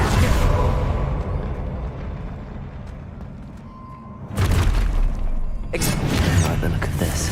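A Confringo fire spell from Hogwarts Legacy erupts in a loud blast that opens the clip, followed by a rumbling tail and two further booming bursts later on, with no speech.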